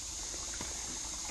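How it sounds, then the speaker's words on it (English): A small stream trickling across a path at a campsite in Rocky Face Recreation Area, Hiddenite, North Carolina, making a soft, steady, faint watery babble with light patter throughout. "that's a nice little stream going through there"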